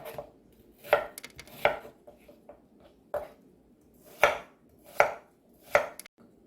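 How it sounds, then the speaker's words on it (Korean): A knife dices an onion into 1 cm cubes on a cutting board, giving sharp, distinct thwacks roughly every half second to a second, close and clear, with quiet gaps between them and no talking. "양파는 1cm 정도 굵기로 깍둑썰기를 해줄 거예요."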